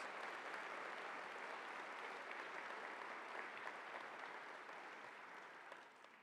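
An audience at a university convocation applauds, a continuous, even roar of many hands clapping that stays quite distant and soft, tapering slightly at the close.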